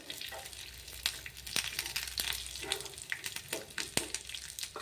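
Curry leaves frying in hot oil for a dill-leaf chitranna rice dish, giving a steady soft sizzle and crackle with a few sharp pops, close and moderately quiet, with no voices.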